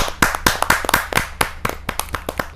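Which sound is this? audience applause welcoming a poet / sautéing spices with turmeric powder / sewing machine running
audience applause welcoming a poet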